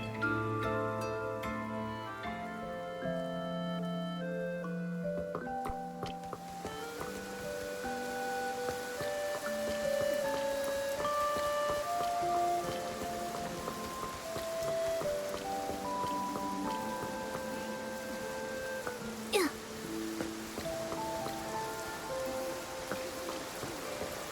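Steady rain patters over a game world in Infinity Nikki, a soft wash of falling drops beneath layered musical tones and chimes, continuous throughout with no voices.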